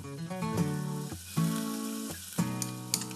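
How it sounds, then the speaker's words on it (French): Onions and garlic sweat in a little olive oil, giving a steady soft sizzle that runs close and unbroken through the whole short stretch, with no voices over it. "on va faire suer un peu nos oignons et notre ail dans un petit peu d'huile d'olive"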